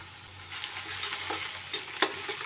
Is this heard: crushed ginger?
yes